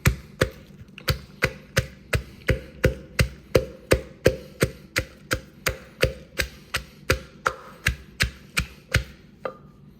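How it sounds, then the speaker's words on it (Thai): Garlic and chili pounded in a mortar while preparing a Thai curry, a steady run of sharp, evenly spaced knocks, about two per second, close and clear with no talking. "ตำเทียมพริกอะไรก่อนแล้วจึงจะเอากะปิมาลง"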